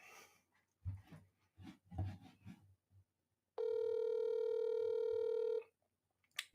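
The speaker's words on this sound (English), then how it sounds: "we're calling her right on the air" A phone call placed live on air: a steady electronic telephone tone holds for about two seconds after some brief clicks and soft noises, with no talk over it.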